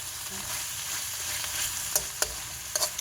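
Spicy pork and eggplant stir-fried in a pan with sugar and seasoning: a steady close sizzle and hiss of frying, with a few sharp scraping clicks of the spatula toward the end.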